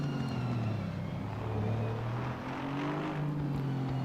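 GT race cars, including a McLaren, roar past in a multiclass race at Zandvoort in Assetto Corsa Competizione, heard from a Maserati GT4 cockpit: a steady, loud engine drone with rising and falling pitch as the cars run close together.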